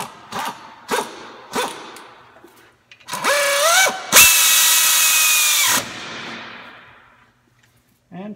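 A power tool tightens brake bolts during a Mercury Mountaineer / Ford Explorer brake job: a few short clicks and knocks, then a loud, close whirring burst whose pitch rises and holds for about three seconds before stopping abruptly.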